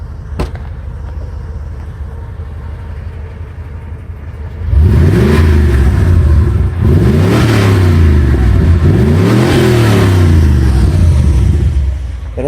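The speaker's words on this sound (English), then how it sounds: "I'm going to now give it some gas so you can hear the exhaust." Lowered car on H&R springs with self-leveling, its exhaust idling low at first, then loudly revved in three or four rising and falling pulls close to the tailpipe.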